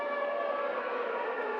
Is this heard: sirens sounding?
yes